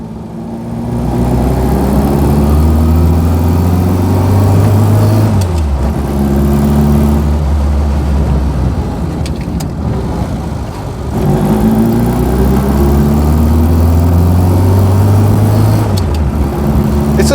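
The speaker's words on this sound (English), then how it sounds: "It's just a great little engine, all alloy engine" A 1999 Reliant Robin's small all-alloy engine runs loudly and close by, droning steadily and rising and falling in pitch as it revs and settles, in two similar surges.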